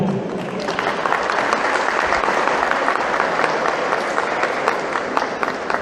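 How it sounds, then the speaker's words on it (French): Heavy, sustained applause fills an opening ceremony of the Grand Open du Baobab in Majunga, a dense steady wash of many hands clapping with crowd noise beneath, loud and continuous throughout. "un tonnerre d'applaudissements pour tout le monde"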